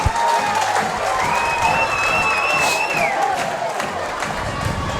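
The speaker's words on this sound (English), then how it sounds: "I can't hear myself think because all of Mount Carmel is here, and they're cheering." Loud, continuous crowd cheering and roaring at a high school football game between Loyalsock and Mount Carmel, a dense wall of voices with whistles and shouts rising through it, steady for the whole stretch.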